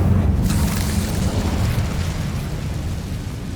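An Incendio fire spell bursts in Hogwarts Legacy, opening with a loud whooshing blast that settles into a steady, roaring rumble with crackling fire for a few seconds.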